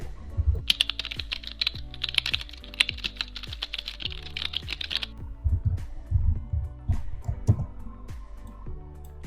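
Fast, steady typing on a computer keyboard with quick clicking keystrokes, continuous and close, with a denser, brighter burst of keys early on before the pace loosens into scattered taps.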